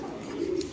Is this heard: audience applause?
no